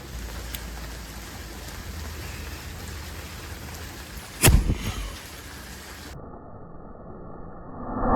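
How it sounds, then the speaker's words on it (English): Steady rain patters throughout, broken by one sharp, loud thunderclap that rumbles briefly before the downpour carries on. "it is currently raining and thundering"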